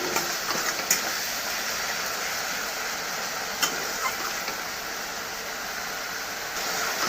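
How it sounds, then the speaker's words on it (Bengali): Spice paste fries and is stirred in hot oil in a home kitchen, producing a steady, broadband sizzle with occasional soft scraping clicks, moderately quiet and continuous without talk. "মশলাটাও ভাজা হয়ে গিয়েছে আর একটু কষিয়ে নিব"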